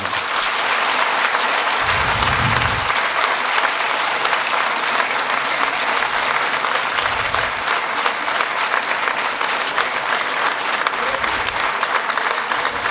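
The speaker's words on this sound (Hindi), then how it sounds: "एक बार ज़ोर से ताली बजा दें इन सब से।" Sustained audience applause fills the whole stretch, a dense steady wash of many hands clapping at an even loudness with no pauses.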